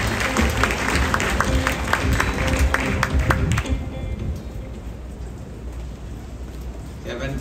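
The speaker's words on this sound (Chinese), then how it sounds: "让我们掌声欢迎" Audience applause fills a Taiwanese factory opening ceremony, a dense, steady wash of clapping for the first few seconds that then thins out and quietens, with a light murmur of voices underneath.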